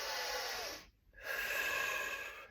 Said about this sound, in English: So breathing in through the nose.